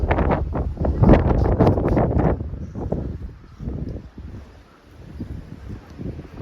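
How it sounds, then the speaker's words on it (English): Strong wind buffets the microphone on a hilltop road near Calvi, a loud, low roaring rush for the first two seconds that then eases into a softer, uneven gusting. "Very serious wind up here."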